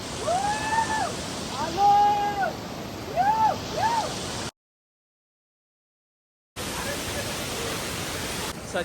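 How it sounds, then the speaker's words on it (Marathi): Kalu waterfall at Kumbhewadi, reached by a monsoon trek near Pune, gives a steady rushing roar. Voices talk over the first half, then a brief silent gap breaks the continuous water noise. "तर आम्ही आलो आहे कुंभेवाड काळू वॉटरफॉल"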